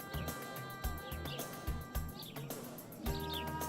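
Sparrows in the 1997 PC game Little Big Adventure 2 give short, bright chirps in a few quick bursts spread across the clip, sitting over a steady, rhythmic background music track.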